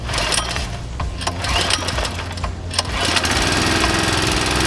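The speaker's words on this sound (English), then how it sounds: "Now we simply pull the puller cord" A pull-start gas engine on a compact water trailer catches and runs, a steady loud mechanical chug with rapid knocking pulses, close up and continuous throughout.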